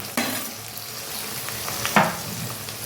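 Chopped tomatoes drop into spice paste frying in oil for a chuijhal chicken curry, giving a steady close sizzle with a sharp splash as they go in and a louder clatter of stirring partway through.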